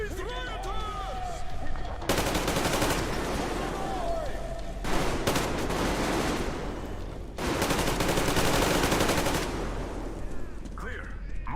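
Sustained automatic gunfire in the video game Metro Exodus, as squads fire on rioters: loud, dense bursts of rapid shots in several long volleys, with brief pauses between them and voices faintly heard at the edges.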